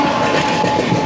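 An express train runs through Chalakudy railway station with a loud, dense rush of rolling wheels and rail rumble, close by and continuous.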